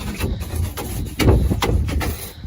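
A trash bin is scrubbed by hand in a series of short, rough brushing strokes, irregular bursts of rubbing and scraping close by with no talk.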